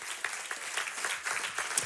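A church congregation applauding during a service, with dense, sustained clapping from many hands filling the space at moderate loudness.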